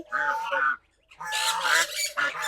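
White domestic geese honk close by in a few loud, harsh nasal calls, with a short silent gap between two bursts.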